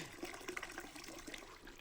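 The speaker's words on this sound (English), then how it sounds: "Water sounds." Flowing water inside a video game near hot springs, a faint, continuous trickling and splashing with small bubbling accents and no voices over it.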